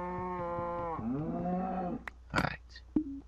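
A cow lows in a video game dungeon level, two long drawn-out moos in a row, close and clear, with a few short game sound effects after.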